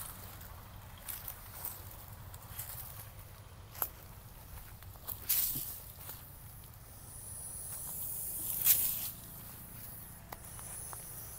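A Russell's viper released into undergrowth giving sharp, pressure-cooker-like hisses as it moves away, several brief faint bursts spread over the span with louder ones around the middle and near the end, amid light rustling and outdoor background.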